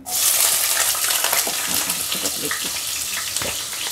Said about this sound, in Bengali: আলুটা এতটা লাগবে না, একসঙ্গে ভাজা করে নিচ্ছি পেঁয়াজ দিয়ে।